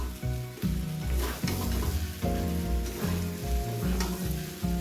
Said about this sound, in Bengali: এরকম মাঝে মাঝে একটু খুন্তি দিয়ে নেড়ে ফাঁকা করে ছড়িয়ে দেবে